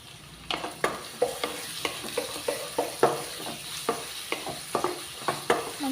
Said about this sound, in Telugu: ఆయిల్ ఎక్కింది కదండి, ఇందులో ఉల్లిగడ్డలు వేసుకుంటున్నాను